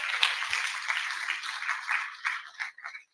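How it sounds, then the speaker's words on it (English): Audience applause at a news event, a dense wash of many hands clapping at moderate distance, steady then tapering off and ending abruptly. "Let's give them a round of applause"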